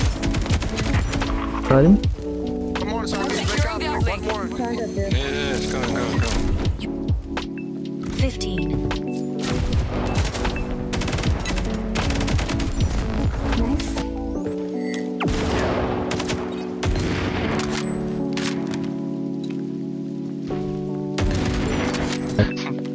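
Gunfire in the pre-alpha first-person shooter Alara Prime, with scattered sharp shots and bursts over a constant droning score and game sounds, while someone speaks briefly.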